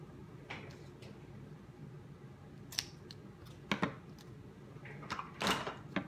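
Scissors snip through burlap striped ribbon during card making, several crisp separate cuts over quiet room tone, the last ones quicker and louder.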